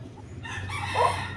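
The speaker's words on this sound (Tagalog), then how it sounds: "Sabay naman naming naririnig yung tilaok ng manok" A rooster crows once, fairly close, over a low steady background hum.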